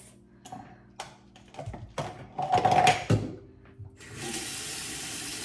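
Water runs steadily from a bathroom sink tap as someone wets their face, a continuous hiss building in the last seconds after scattered splashes and handling clatter.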